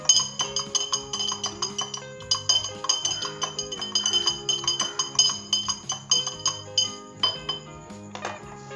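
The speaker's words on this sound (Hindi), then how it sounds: "तो अब हम इसके अंदर 1 पिंच टाटरी शामिल करेंगे और इसे हिला लेंगे अच्छे तरीके के साथ।" A spoon stirs lemon juice mixed with a pinch of tartaric acid in a glass container, producing rapid, rhythmic clinking and ringing taps against the glass, bright and close, with no voices.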